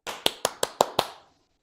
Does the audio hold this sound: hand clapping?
yes